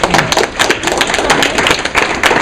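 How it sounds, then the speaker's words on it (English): A small audience gives the panelists a round of applause after a talk about teaching English abroad, close, fairly loud clapping with distinct individual claps in a steady patter. "Before we break up, I just want to give all the panelists a round of applause."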